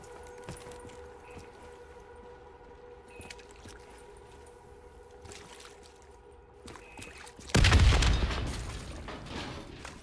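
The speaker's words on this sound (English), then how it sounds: "The explosion blocked our path." A heavy explosion goes off in the Call of Duty Black Ops 3 zombie story mode, a sudden loud broadband blast after a long stretch of quiet ambient hum, then a rumbling, slowly fading tail.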